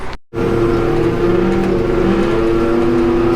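A loud Tigercat 718E forestry machine engine cuts briefly, then roars back and runs at a steady, heavy drone close by, with no talking.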